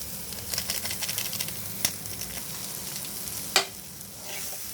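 Tomatoes and Maggi masala frying for Maggi noodles, a close crackling sizzle with stirring scrapes and two sharp utensil knocks against the pan.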